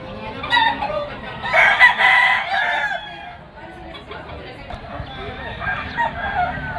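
Gamecock stags at a busy market in Malabon crow and cluck close by in short, loud bursts, with market chatter and a voice talking underneath.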